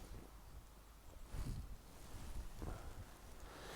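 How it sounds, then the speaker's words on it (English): Wind gusting through a forest around a tarp and bivy camp, a broad rushing roar with two stronger surges partway through, close and buffeting like it is hitting the microphone. "It's mad, the wind. It's only a slight gust at the minute"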